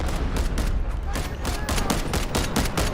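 Rapid gunfire in the video game Delta Force, a dense, loud fusillade of bursts crackling continuously with faint voices beneath.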